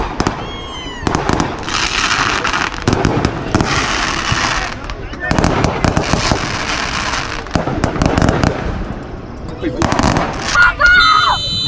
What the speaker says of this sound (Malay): Nampaknya ada bunga api.